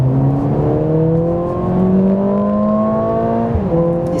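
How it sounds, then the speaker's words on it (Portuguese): A Mercedes-AMG CLA 45 at full throttle from 60 to 120 km/h, its engine note climbing steadily in pitch, then dropping briefly at a gear change before rising again, loud and close with no talking. "vamos aproveitar aqui para fazer a nossa retomada de velocidade, né? De 60 a 120."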